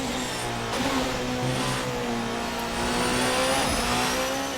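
A race car engine in the Assetto Corsa racing game drones and revs steadily under acceleration, a loud, continuous mechanical roar with shifting pitch throughout and no voices.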